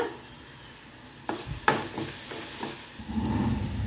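Soft sizzling of ingredients sautéing in oil for an egg side dish, with a couple of stirring scrapes and clatters partway through and the sizzle growing a little stronger toward the end.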